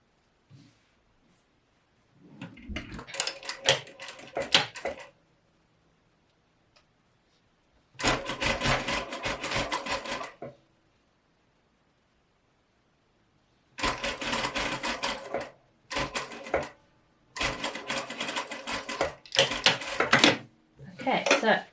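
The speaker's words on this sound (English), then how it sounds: "So again, just stitching with a 1 centimetre seam." A sewing machine stitches a collar seam with a 1 centimetre allowance, running in several separate bursts of rapid mechanical whirring with quiet pauses between, close and fairly loud.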